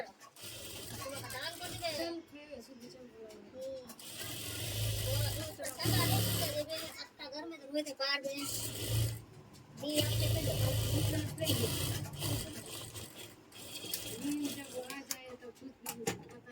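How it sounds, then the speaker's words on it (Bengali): A sewing machine stitching a patiala pajama runs in repeated bursts of rapid mechanical whirring and clatter, nearby and fairly loud, with pauses between runs and a person talking throughout. "এবার এটা এখানে সুন্দর করে সেলাই মেরে দিলাম"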